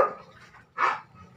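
A household dog pants softly, then lets out one sharp bark-like burst, close and fairly loud, with no talking.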